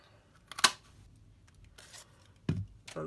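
Glimmer card is cut for a milk carton craft box, making a sharp snip near the start, then faint rustling and a couple of further crisp handling sounds near the end.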